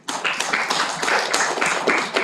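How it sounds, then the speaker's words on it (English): An audience at a corporate HR debate semi-final applauds the judges, with dense, steady clapping from a crowd that stays loud and close for the whole stretch. "round of applause to our wonderful judges"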